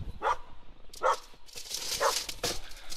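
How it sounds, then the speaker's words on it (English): A neighbour's dog barks inside a car, four short sharp barks spaced about a second apart, close and fairly loud over a steady background hum with no talking. "My neighbor's dog is in my car."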